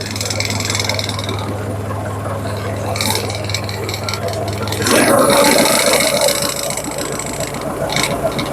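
A crane's engine idling steadily, then revving up partway through to a louder, rougher roar before easing back slightly, close by with no speech over it.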